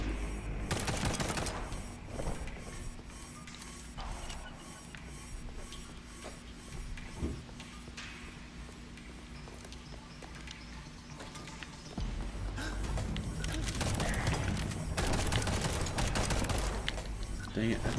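Rapid automatic gunfire from a first-person shooter game, Liberated, rattles in long dense bursts with heavy, loud bangs near the start and end, over a steady background hum.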